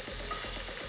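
Onion and green chili frying together in a pan, a steady, dense hiss of sizzling oil with faint stirring clicks, close and unbroken for about a second, with no talk.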